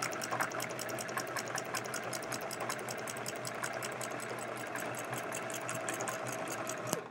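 A sewing machine stitches a hedgehog quilt with a fast, even mechanical whirr and rapid needle ticking, close and continuous, with no voices over it.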